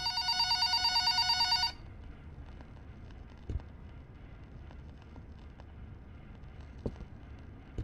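A telephone rings in the horror video game Tapes of Fear: Smile, a bright, steady electronic ring for under two seconds that stops abruptly, leaving faint hiss and a few soft knocks in a quiet room.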